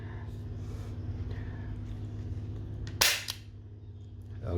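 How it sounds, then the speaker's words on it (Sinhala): A semi-metal toy revolver fires a single sharp cap-gun crack over a low steady background hum, with a faint second snap just after and a rising noise at the end. "ඔයාලට ට්‍රිගර් එක ප්‍රෙස් කරද්දි මේක පේනවා ඇති මේකේ මේ වගේ සීල්ඩ් එක කැරකිලා මේක ලෝඩ් වෙනවා"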